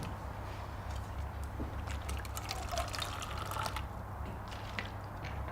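An alcoholic drink is poured, a faint liquid trickle and splash over a low background hum, with no voices.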